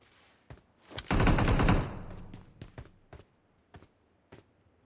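A burst of automatic gunfire in PUBG Mobile, a dense rapid crackle lasting under a second, followed by several single sharp shots and taps spread out over quieter moments.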